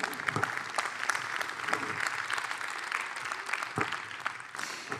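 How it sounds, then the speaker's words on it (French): Audience applause at the close of a conference day, steady clapping from a crowd in a hall, moderately loud and continuous, with no talk over it. "On vous applaudit."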